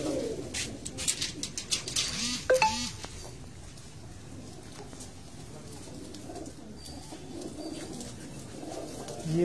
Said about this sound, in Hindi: कबूतर तैयार किए हैं